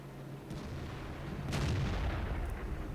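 Tank cannon fire in the World of Tanks video game, a few muffled booms over a continuous low rumble, distant and soft rather than sharp.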